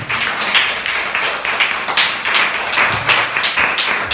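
Dense, continuous applause from a church congregation, many hands clapping together at a steady, loud level throughout with slight rhythmic surges.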